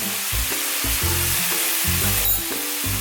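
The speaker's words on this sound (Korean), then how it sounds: "이 정도로 고기를 완벽하게 볶아주셔야 돼요" Ground pork stir-fries in a hot pan with a constant close sizzle, broken by rhythmic scraping and clacking as a utensil pushes and turns the meat, with no talking.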